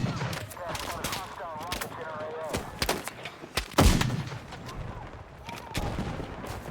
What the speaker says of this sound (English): That one's shooting at my head.